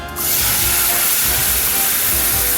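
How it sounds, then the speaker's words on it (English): Liquid hits a hot pan with a loud, steady hissing sizzle that starts abruptly and continues without pause, a broad bright fizz close up. "It's going to sizzle very loudly when you do this."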